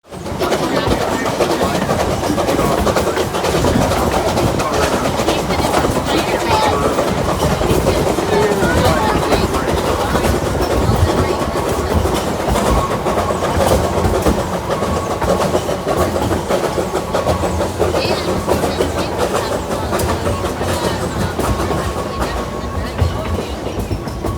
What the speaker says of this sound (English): Now the engine was approaching the main grade.